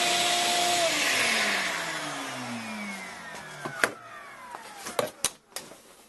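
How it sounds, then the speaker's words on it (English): A blower pushes air through a PC case to clear dust, a loud steady rushing whir that winds down over a few seconds, followed by scattered knocks and clatter. "now you can blow dust around"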